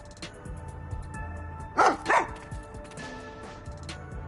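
Two quick, loud barks from a dog named Sugar in the RainCode video game, evenly spaced and close, over a quiet low game background hum.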